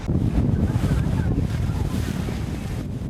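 Strong wind buffets the microphone over the rumble and wash of waves, a loud, continuous roar at sea aboard a fishing boat near Tongyeong, South Korea.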